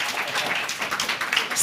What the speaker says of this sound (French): Oh, on peut l'applaudir, bravo, il est fort.